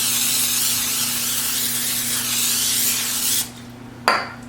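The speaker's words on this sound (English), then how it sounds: "I also need to spray my pan" A steady, continuous hiss of butter spray onto a pan lasting a few seconds, stopping abruptly, followed by a brief second burst of spraying.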